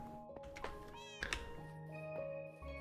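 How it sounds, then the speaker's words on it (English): A pet cat in Minecraft meows several times, with short distinct calls that come one after another in an uneven rhythm over a faint game background, and nobody speaks. "I heard my kitty meow"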